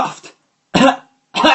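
A storyteller imitates a queen coughing, giving three sharp, loud vocal coughs with short silences between them, voiced close and alone.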